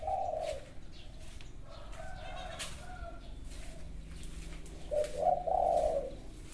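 A dove-like bird gives low, soft cooing calls near the start and again at the end, fairly close, over quiet outdoor background.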